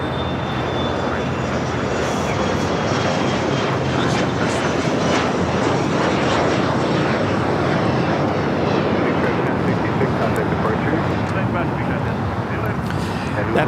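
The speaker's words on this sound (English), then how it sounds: "That is JSX 1066 taking off to Cabo on the E145." A JSX Embraer E145 jet bound for Cabo roars through its takeoff, a loud, sustained engine rumble with a rising whine, continuous across the clip, with talking partly underneath.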